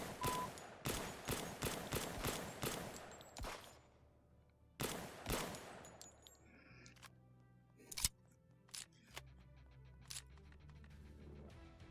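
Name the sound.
gunfire in the VR shooting game P1441VR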